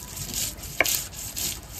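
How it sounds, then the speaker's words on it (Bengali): Onion ground into paste on a stone, soft repeated scraping and rubbing strokes close by, fairly quiet, with one brief sharper knock partway through and no talk. "পেঁয়াজটা বেটে নিচ্ছি"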